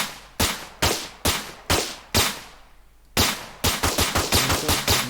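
Gunfire in an Unreal Engine 5 multiplayer third-person shooter game, evenly spaced loud single shots, a brief gap, then a faster burst of rapid close shots with no talking.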